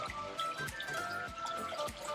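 Water splashing and trickling in a backyard fish pond, close by, with soft irregular drips and pours running steadily through the short stretch.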